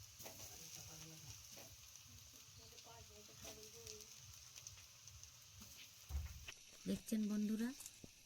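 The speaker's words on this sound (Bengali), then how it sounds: "আলুগুলো এক পিঠ করে ভাজা হয়ে আসছে" Boiled, peeled potato pieces frying in oil in a kadai, a soft steady sizzle running beneath a nearby speaking voice, with a few louder clanks of stirring near the end.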